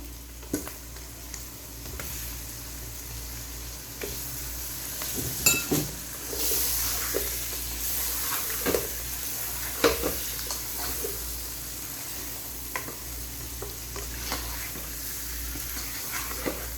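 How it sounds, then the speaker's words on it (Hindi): Chicken frying with softened tomatoes for chicken haleem gives a steady sizzle, with occasional stirring scrapes and a few clinks of a utensil against the pot, moderately close and alone without talk. "अब मैं इसमें चिकन शामिल कर रही हूँ।"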